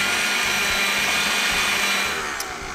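Steady, loud whirring drone of a stand mixer whipping meringue for French macarons, running continuously without pause and no talking.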